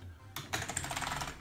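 Typing on an Amiga 1200 computer keyboard with fitted membranes, a close, steady patter of clicky keystrokes that starts after a brief quiet moment and continues densely to the end.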